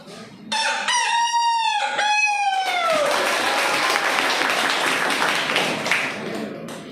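A mimicry artist imitates a rooster with a long, loud, strained crow that slides downward, then breaks into noisy applause-like clapping and crowd sound.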